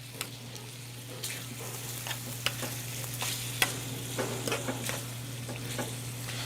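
Pork ragu being stirred in a pot after ricotta cheese goes in, with a steady low hum beneath gentle sizzling and a run of soft scrapes and clinks from the spoon, close by and unvoiced.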